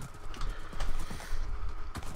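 A horse in a Minecraft Hypixel arcade game clip-clops with quick, fairly loud hoof beats in an uneven running rhythm, no speech.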